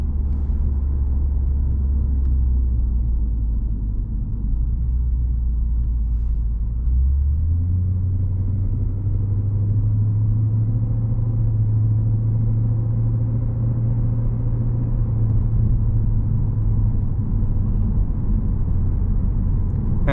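A Lexus GSF cruising gently in eco mode, heard from inside as a steady low engine and road rumble that climbs slightly in pitch partway through, smooth and continuous with no talking.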